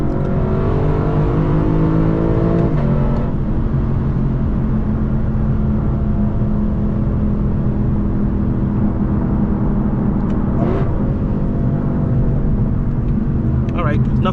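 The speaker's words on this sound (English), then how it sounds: "Never get over that sound. Oh man, dude. This engine is amazing." Loud, close Lexus LC 500 sports car engine held at a steady high rev, humming and roaring continuously, with a couple of brief sharper bursts.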